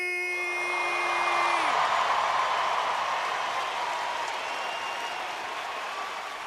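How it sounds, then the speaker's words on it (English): A live stand-up comedy audience breaks into sustained loud applause with whoops and cheers, swelling quickly and holding steady as a tone fades out at the start. "another big round of applause for my friend, the man, the myth, the legend"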